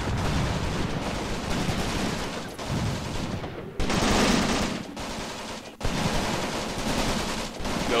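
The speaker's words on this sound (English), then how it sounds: "German's getting quite close here with his MG42" A German MG42 machine gun fires in Graviteam Tactics. It lets out loud sustained bursts of rapid automatic fire, broken by a few brief gaps and surges, over about eight seconds.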